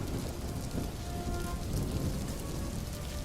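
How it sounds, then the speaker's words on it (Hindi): Steady rain falling as a story sound effect, a dense continuous hiss of drops with low rumbling underneath, even and immersive throughout with no talk. "तभी अचानक वर्षा होने लगी"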